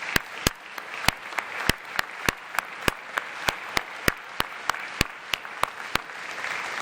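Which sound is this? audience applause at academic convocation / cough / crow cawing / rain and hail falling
audience applause at academic convocation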